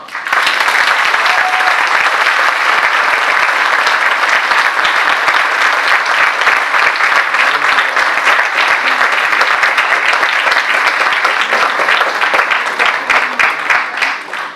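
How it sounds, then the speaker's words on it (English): An audience applauds at a graduation convocation ceremony in Chennai, a loud, sustained wall of dense clapping that holds steady for the full stretch before tapering slightly at the end. "Now the audience may applaud."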